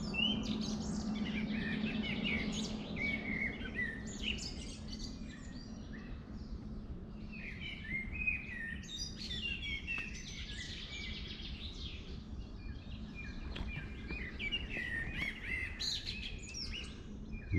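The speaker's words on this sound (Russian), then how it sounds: "Вот как замечательно птички поют." Birds sing in Peterhof's Meadow Park, a busy mix of chirps and warbling phrases repeating across the whole stretch, moderately near over a low, quiet ambient rumble.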